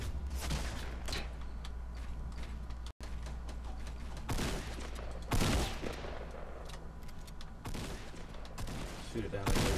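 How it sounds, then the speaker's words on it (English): Gunfire in the video game Fortnite during a Battle Royale duo match rattles in dense, continuous bursts of rapid shots under a constant background rumble, with players talking over it. "They're gonna probably shoot at me here in a second."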